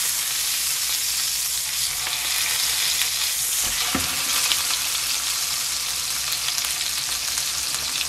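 A thick tomahawk steak sizzles steadily in a frying pan over high heat, a loud continuous crackle and hiss near the mic, with a brief bump from the meat or pan around the middle and no talking.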